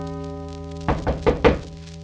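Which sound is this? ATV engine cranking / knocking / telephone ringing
knocking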